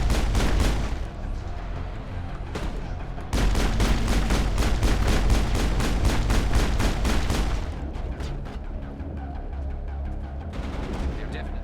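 Sustained, rapid bursts of weapon fire in the co-op sci-fi shooter Project Mass Effect, aimed at creepers near colonists. Dense, loud volleys run for several seconds, break briefly, then return as scattered shots.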